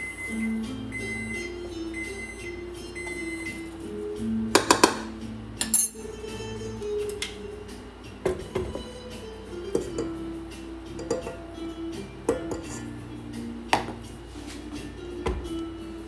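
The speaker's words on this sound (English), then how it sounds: "And then I'm going to stir that up and then mix it in slowly to my other mixture." All-purpose flour is stirred into a cream cheese cookie dough mixture in a bowl, giving light scrapes and scattered sharp clinks of utensil against the bowl at an uneven pace, close by with no talking.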